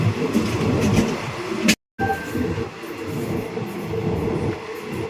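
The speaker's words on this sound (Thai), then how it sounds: "วันนี้ก็พากันมานั่งรถไฟ เที่ยวนะครับ" A Thai passenger train rumbles steadily along the rails between Korat and Pak Chong, a continuous low roar with faint rattling and a brief cut in the middle, no voices.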